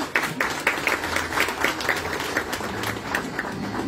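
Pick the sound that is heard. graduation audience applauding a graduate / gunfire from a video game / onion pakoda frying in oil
graduation audience applauding a graduate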